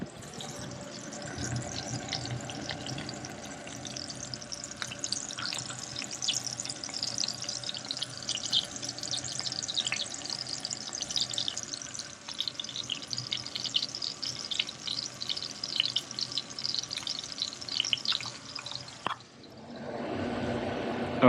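Garlic frying in a pan for Catalan-style tomato and garlic cod, a steady close-up crackling sizzle that runs continuously for about nineteen seconds before cutting off abruptly.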